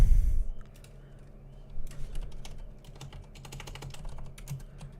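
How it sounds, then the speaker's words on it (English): Typing on a computer keyboard: quick, irregular bursts of close key clicks following a low thump at the start, with no talking. "You guys are seeing that I'm not very good at typing."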